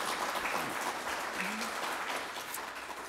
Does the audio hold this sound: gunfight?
no